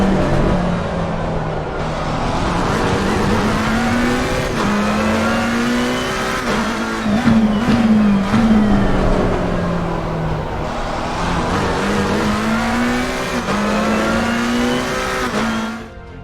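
A McLaren 720S race car engine accelerating at Brands Hatch in Assetto Corsa Competizione, loud and close, revs climbing through gear changes and easing off, with a brief tire squeal midway.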